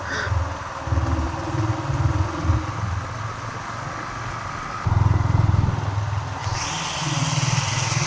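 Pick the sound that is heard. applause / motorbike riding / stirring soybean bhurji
motorbike riding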